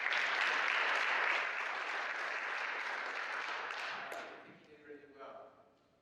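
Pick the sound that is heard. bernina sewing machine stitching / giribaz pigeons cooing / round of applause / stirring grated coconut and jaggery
round of applause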